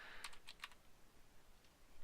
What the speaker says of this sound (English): you can't see me typing